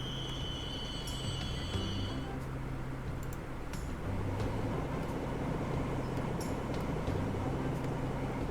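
Game-rendered train in Transport Fever 2, with a steady low rumble of a rolling locomotive and wagons, a brief high whistle-like tone early on and faint clanks, continuous and fairly close.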